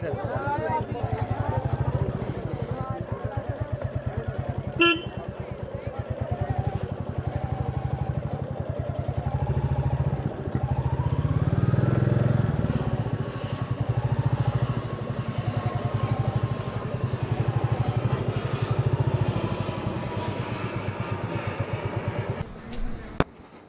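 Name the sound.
motorcycle engine running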